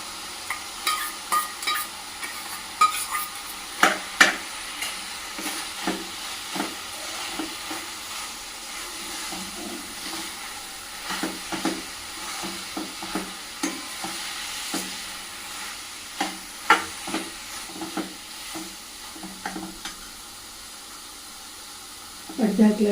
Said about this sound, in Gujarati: હવે આમાં સોયાબીનનો કરેલો ખીમો નાખીશું.